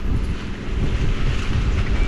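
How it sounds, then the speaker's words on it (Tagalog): Strong wind buffeting close to the microphone at a campsite, a loud continuous low roar with gusts and a faint watery wash beneath. "Lakas ng hangin."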